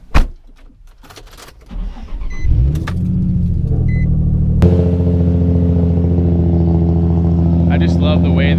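A Nissan 350Z with a Z1 single-exit exhaust starts up close by after a few clunks, then settles into a loud, steady, throaty idle with a slight revving swell.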